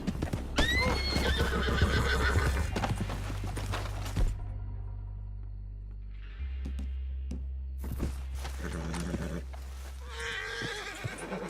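A horse in Red Dead Redemption 2 whinnies loudly up close, then its hooves clip-clop in a quick rhythm, with a second neigh and more hoofbeats later over steady game ambience.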